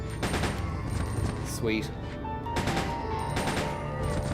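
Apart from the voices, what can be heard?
gunfire from a gun in the video game Resident Evil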